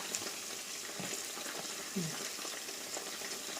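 Chicken wing mid-joints fry in fish sauce with a steady, gentle sizzle and crackle, soft and close, with a faint stir or scrape partway through and no talking.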